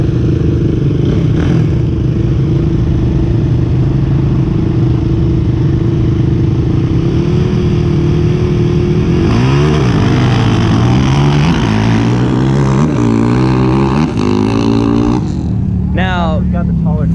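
An ATV launches in second gear at a dusty night-time drag race, its engine idling and then revving hard with quick rising sweeps as it pulls away. The sound is loud and close.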